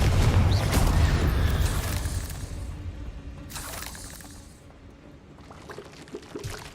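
Confringo fire spell blasts from the Hogwarts Legacy video game, cast at spider egg sacks: a loud burst up front, then a few sharper whooshing blasts with crackling tails over a quieter rumbling bed.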